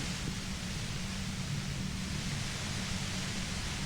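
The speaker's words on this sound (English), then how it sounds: "You hear through the white noise. It's especially bad suddenly." Steady broadband hiss of a white noise effect in the video game Disco Elysium, an unbroken rushing static with a low rumble underneath, constant in level throughout.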